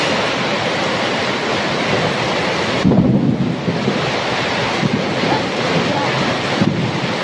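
Heavy rain pouring down as a loud, continuous roaring wash of noise with gusty wind buffeting the microphone, a few brief louder surges, and no clear speech.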